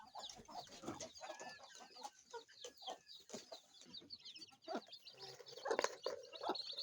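Several chickens cluck and murmur softly while feeding, a scattered, busy chatter with occasional sharper calls, fairly close and fairly quiet, with no talking.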